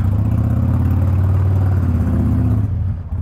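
A Harley-Davidson Sportster 1250 motorcycle engine rumbles loud and close with a deep pulsing low throb as the bikes set off from a restaurant parking lot, easing and fading near the end.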